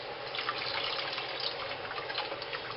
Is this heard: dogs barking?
no